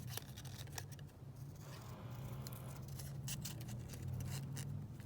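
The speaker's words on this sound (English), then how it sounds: "I'm going to have to cut that gap out because, yeah, I just don't really like the look of that" Scissors snip through paper for a book page collage in a quiet room, with a series of soft, close, crisp cuts and light rustling and no talking.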